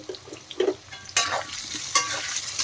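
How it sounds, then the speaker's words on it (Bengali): Potatoes frying in hot oil, a steady crackle with scraping stirs and bursts of louder sizzle, close by with no voices. "আলুগুলো দিয়ে দিলাম তেলের মধ্যে। এখন ভালো করে ভেজে নেব আলু।"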